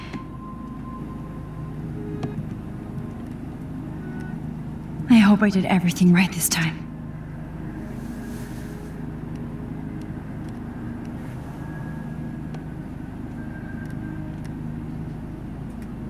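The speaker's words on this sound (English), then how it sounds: "You're safe. On a plane." Airplane cabin in flight in the video game Life is Strange, a steady low engine drone running throughout beneath a voice that speaks briefly.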